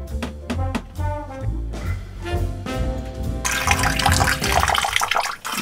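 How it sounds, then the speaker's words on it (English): Salt water rushes out of a boat's bilge after a hull fitting is opened, a gushing, splashing flow that starts with gurgling bursts and swells into a louder continuous pour near the end. "When it comes, it's gonna be a lot of water."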